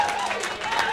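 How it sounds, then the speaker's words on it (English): A comedy roast battle crowd claps and cheers in a brief, loud burst of steady applause, with a voice carrying over it. "Clap your hands for these two."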